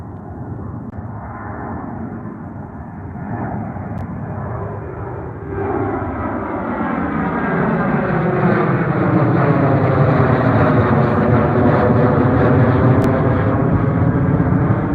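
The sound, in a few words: airplane taking off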